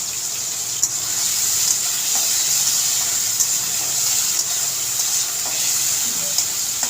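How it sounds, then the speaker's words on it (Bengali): Prawns fry in a pan while being lightly stirred, a steady hissing sizzle with faint occasional taps from the utensil, no voices. "মাছটা খুব বেশি কড়া করে ফ্রাই করব না, হালকা একটু 2-3 মিনিট নাড়াচাড়া করেই নামিয়ে নেব।"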